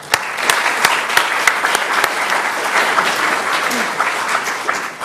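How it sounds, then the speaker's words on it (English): Audience at a 2012 League of Women Voters election forum applauds to welcome the speakers, loud continuous clapping with distinct sharp individual claps standing out, lasting about five seconds. "we have asked for no audience reaction and no applause, except for right now"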